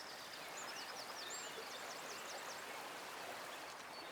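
A fast-flowing stream rushes in a steady, dense hiss, with faint high bird chirps threading over the water noise.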